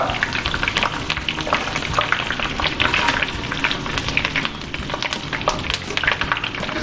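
Curry leaves and chillies fry in hot oil, giving a loud, continuous crackling sizzle with dense spitting pops throughout, close and without speech.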